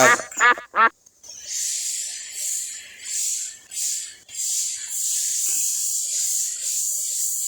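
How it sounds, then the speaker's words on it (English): Duck quacks in a short rapid burst, loud and close, followed by a series of softer, hissy quacking calls spaced out over several seconds. "Duck, duck."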